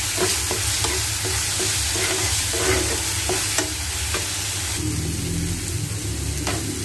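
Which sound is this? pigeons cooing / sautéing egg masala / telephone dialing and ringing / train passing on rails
sautéing egg masala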